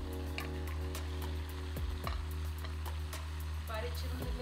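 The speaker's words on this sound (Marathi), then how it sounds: "आता आपण यात ही शिमला मिरची ॲड करायची आहे।" Capsicum is added to a thick gravy with oil separating, giving a steady close sizzle with a few stirring scrapes and no talking.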